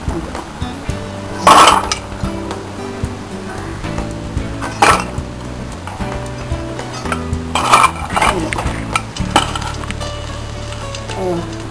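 Fried rice-flour chegodilu being scooped from a pan into a bowl, with sharp metal clinks and scrapes of utensils against dishes in several bursts over a faint sizzle of hot oil.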